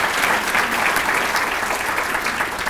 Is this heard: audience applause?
yes